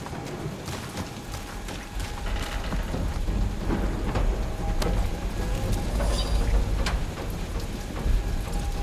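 Steady rain pours through a thunderstorm on the planet Katath in the video game Marvel's Guardians of the Galaxy, with low rumbling thunder rolling beneath a constant dense patter that swells slightly louder toward the end.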